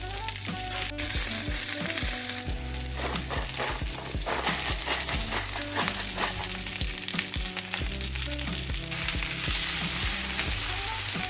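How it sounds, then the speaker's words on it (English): Green beans, some halved and some left whole, sizzle and fry steadily in hot oil with garlic, salt and pepper, with occasional stirring clatter and no talking. "I kind of like to saute them real quick in some oil and some salt and pepper and garlic."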